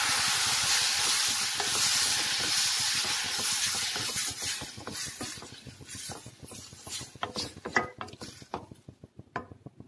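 Chopped tomatoes added to a hot pan with chilli powder over low heat for aloe vera chutney give a loud, steady sizzle that thins out into a run of sharp clicks and scrapes from stirring.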